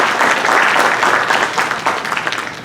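Applause from a lecture-hall audience at a university seminar on criminal law theory, a dense, steady wash of many hands clapping close by for under three seconds.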